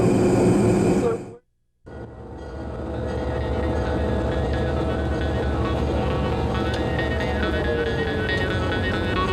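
A Florida Gulf Coast Railroad train in Parrish, Florida, 1999, rolls along the rails with a steady rumbling roar. A brief cut of silence comes early, then the continuous rolling noise resumes and holds.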